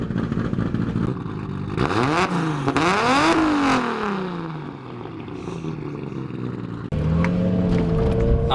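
A modified 800 HP Nissan Skyline R33 GTR engine revs hard nearby, with several sharp rising and falling sweeps, a slow wind-down, then a fresh burst of throttle at the end.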